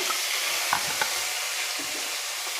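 Ginger and green chilli paste fries in a pan, a dense steady hiss with a couple of faint utensil taps, close and fairly loud.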